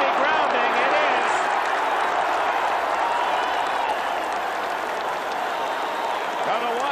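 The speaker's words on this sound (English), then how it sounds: "The Washington fans cheer." Washington fans in a packed stadium at the 1981 Rose Bowl against Michigan roar in a steady, loud crowd cheer with scattered clapping, the dense noise filling the whole stretch while a commentator talks over it.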